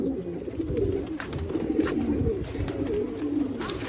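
Pigeons cooing nearby while being fed grain, a soft, repeated throaty coo over a low background murmur.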